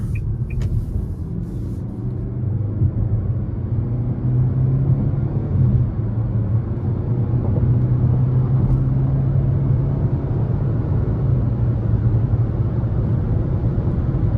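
A naturally aspirated 2.5-litre engine in a 2023 Nissan Altima SR with a CVT accelerates, heard from inside the cabin as a steady, loud low rumble and road drone that barely changes pitch.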